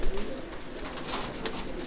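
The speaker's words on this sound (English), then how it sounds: "This bird right here, 903, is a half brother to Bulldozer's Beauty, same mom" Racing pigeons coo steadily in a small loft, a soft continuous burbling chorus of several birds at close range with no voices.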